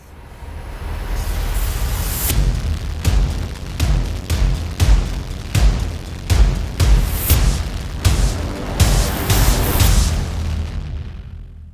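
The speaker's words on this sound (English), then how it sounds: "all the reverse sounds you just heard was made here with the Boom Kit by reversing it" A sequence of booming hits from the 8Dio Hybrid Tools 3 Epic Boom Kit, reversed so each swells up and cuts off abruptly, layered over a driving beat, loud and rhythmic before fading out.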